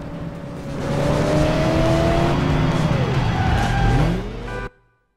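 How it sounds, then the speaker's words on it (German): Racing car engines roar and rev in a police action driving game, a loud continuous whine sweeping up and down in pitch with tire squeal, then cutting off abruptly at the end. "Ben, wo heulen die Motoren um die Wette?"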